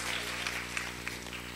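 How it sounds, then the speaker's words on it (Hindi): Applause from an audience at a felicitation ceremony in Aurangabad: a steady, dense wash of clapping that holds at an even level for a short stretch, with no pause. "चलिए जोरदार तालियां बजाइए।"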